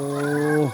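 A single drawn-out, tonal chicken call on a chicken farm rises and then drops off sharply, loud and close.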